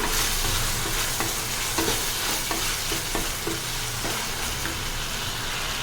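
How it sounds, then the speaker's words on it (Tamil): Ginger garlic paste sautéing in a pan, a loud continuous sizzle and hiss with scattered clicks and scrapes from a spoon stirring against the metal, no voices present. "அதை இஞ்சி பூண்டு பேஸ்ட்டை நல்லா வதக்கிக்கலாம்"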